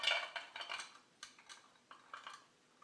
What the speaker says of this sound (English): you simply pour them into this cup